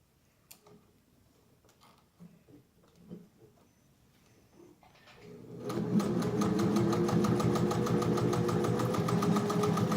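A refurbished Singer 201-2 sewing machine starts up after a few quiet clicks and handling noises, then stitches through layers of leather with a steady, close, rapid mechanical chatter that runs to the end.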